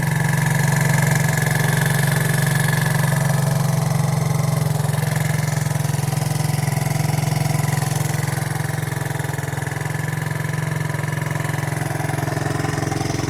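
A 1977 Honda XL100 motorcycle engine idles steadily, a loud, close, continuous low rumble that runs the whole time without a break.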